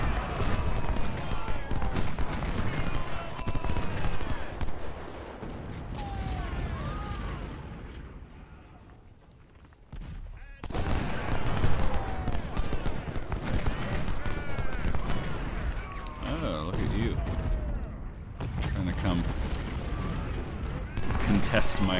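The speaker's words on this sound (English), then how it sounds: "Oh, there comes some artillery." Artillery and musket gunfire in the Civil War strategy game Ultimate General: Civil War, Chickamauga battle: dense, continuous rumbling booms and crackling volleys throughout, briefly dropping quieter midway, with a voice talking over it.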